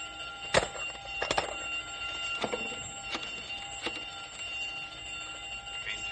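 An escape alarm from a radio drama rings as a steady, high electronic tone, with several sharp metallic clanks and thuds scattered over it at moderate distance.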